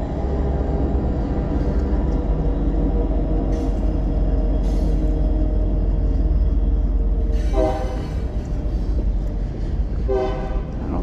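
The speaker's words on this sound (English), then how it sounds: "There goes the train." A train rumbles past nearby in a loud, continuous roar, with brief horn-like tones sounding over the steady rolling noise.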